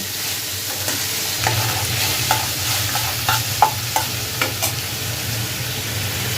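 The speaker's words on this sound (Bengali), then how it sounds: "এ পর্যায়ে দিয়ে দিব ছোট ছোট করে কাটা মিষ্টি কুমড়া। এগুলো একটু ভালোভাবে কষিয়ে নিব।" Small pieces of pumpkin and bottle gourd stir-fry with spices in a pan, giving a steady close sizzle under repeated spatula scrapes and taps against the pan, with no talking.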